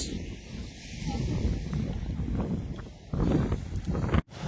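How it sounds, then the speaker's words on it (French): Outdoor wind noise at the seaside in Cádiz, Spain, a continuous loud rumbling buffet on the microphone with gusts swelling and one sharp dropout near the end. "Il y a un peu moins de vent"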